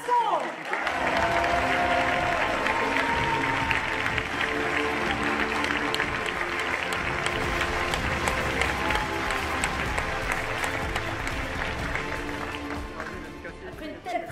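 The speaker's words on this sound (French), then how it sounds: "Je vous demande d'applaudir une élue de chic, de charme et de choc" Sustained applause and clapping from a crowd at a political rally for regional candidate Alexandra Masson, a dense, loud wash that holds steady for most of the span before easing off toward the end, with voices mixed in.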